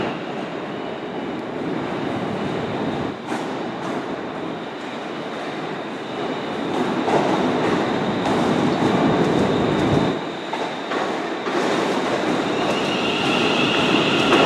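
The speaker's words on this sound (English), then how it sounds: "Got another Class 318 going to Ayr from Glasgow Central." A Class 318 electric train at Glasgow Central station rumbles and rolls past, with rail clatter, brief brake or wheel squeals and shifting intensity throughout, fairly loud and close.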